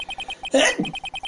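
A character in the Phoenix Wright: Ace Attorney video game lets out a single short sneeze, set against a steady run of repeating beeps from dialogue text.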